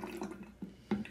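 Alcohol poured into a cup in a home kitchen while mixing a homemade room fragrance, a short liquid splash with a couple of soft glugs, close and quiet.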